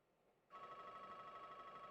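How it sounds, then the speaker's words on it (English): A home telephone starts ringing abruptly and keeps up a steady, continuous electronic ring, fairly quiet and with no voices over it. "There's the phone."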